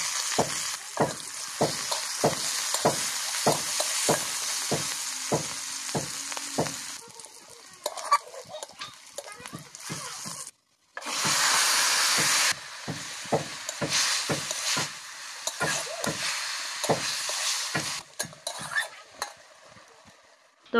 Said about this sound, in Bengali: এবার এখানে পেঁয়াজ, কাঁচা লঙ্কা, রসুন ফোড়ন করে শাকটা ভাজা করব।